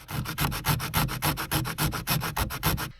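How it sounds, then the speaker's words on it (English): Plastic tabs in an Audi TT radio cage are filed down with quick, regular back-and-forth rasping strokes, about fifteen in a row, close and alone, before stopping abruptly. "we've got to basically cut them off or file them down"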